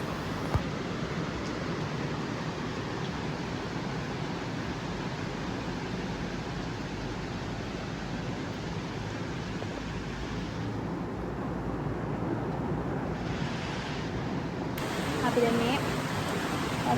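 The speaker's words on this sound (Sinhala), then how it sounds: "එතෙන්ට ආපු ගමන්ම වැස්සත් පටන් ගත්තා guys" Rain falls outdoors in a steady, even hiss that continues unbroken throughout, fairly soft and diffuse.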